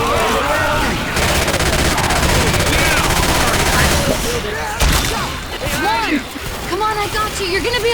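Rapid gunfire from a hunting rifle and other guns in the zombie shooter Left 4 Dead 2, dense and loud for most of the stretch, with shouted voices over it and a brief lull near the end.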